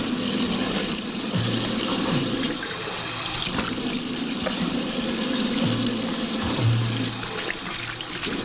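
A tap runs in a steady, close water stream while the face is washed for ablution, with splashes and shifts in the flow as hands move through the water.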